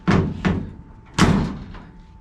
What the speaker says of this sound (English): this is considering I can just push it closed instead of slamming it